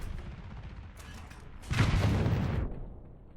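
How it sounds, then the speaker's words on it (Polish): A single muffled gunshot-like blast bursts out in a short noisy rush, then fades into quiet background. "I uwaga, gość odpali drugi strzał."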